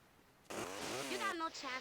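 A chainsaw strikes a player during a competitive esports video game match, a sudden buzzing, harmonic engine whine bursting in loud and close for over a second with a voice talking over it.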